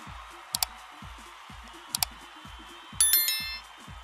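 Paired bright metallic dings ring out twice, then a short rising chime sounds, all over a repeating low thumping beat, as a notification bell effect accompanies a subscribe prompt.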